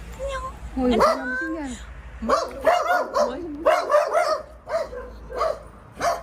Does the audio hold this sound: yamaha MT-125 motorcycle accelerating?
no